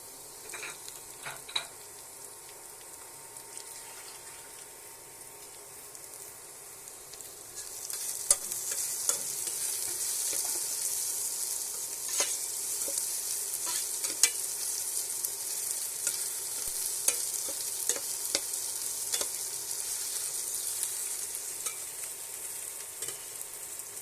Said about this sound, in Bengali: রান্না চড়ানো হয়ে গেছে পেঁয়াজ ভোনা করতেছে